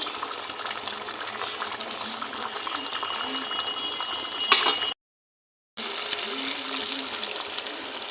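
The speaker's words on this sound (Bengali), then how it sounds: "নাড়াচাড়া করে ফুটতে দেবো" A pan of Rui fish kalia curry bubbles and simmers steadily with green chillies added, a continuous soft wet hiss with a few faint clinks and a brief gap of silence.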